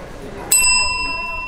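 A single bright ring of a small bicycle-style bell, struck once and left to ring on as a clear shimmering tone that fades slowly, loud and close.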